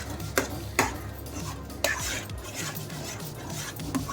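A spoon stirs banana kesari bath in a pan, giving a few soft scraping clicks and taps at irregular intervals over a low background.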